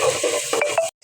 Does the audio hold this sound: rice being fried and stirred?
yes